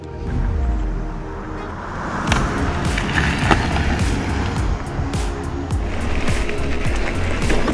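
Amflow PL Carbon Pro carbon electric mountain bike riding a dirt trail, with loud rumbling tire and wind noise close to the rider, plus scattered clicks and bumps as it rolls over rough ground.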